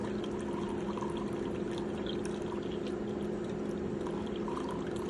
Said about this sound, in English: you're gonna click rinse, and that's just gonna get some saline through that line so it's not all sticky